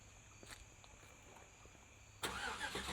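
After faint background noise and insect chirps, a 2013 Chevrolet Avalanche's 5.3-liter V8 starts abruptly by remote start and keeps running with a low, steady rumble at some distance.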